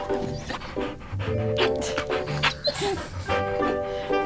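A dog pants rapidly and wetly at close range in a home, with quick breathy puffs repeating steadily and soft whines between them.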